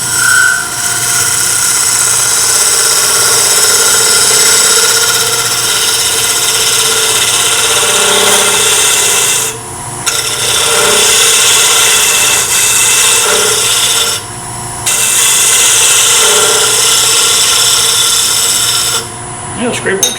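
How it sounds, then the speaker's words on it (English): A segmented maple bowl spins on a wood lathe and vibrates, giving off a steady high-pitched whine above the motor's loud, continuous drone, with brief breaks as the tool lifts away. "Now hear that high pitch sound? That's this bowl vibrating."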